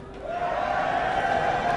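A live esports arena crowd at a League of Legends playoff match cheers loudly, a sustained roaring wash of voices that holds steady across the brief moment.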